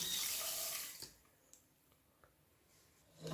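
Water pours into a cooking pot already holding a cup of sugar, a steady splashing stream for about a second, followed by a few faint drips and light clinks before another short pour at the end.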